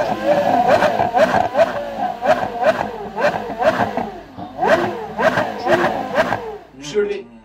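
A human voice imitates the revving of a Porsche Carrera GT V10 engine, with about ten loud, rising vroom bursts in a quick, uneven rhythm, followed by a short breathy sound.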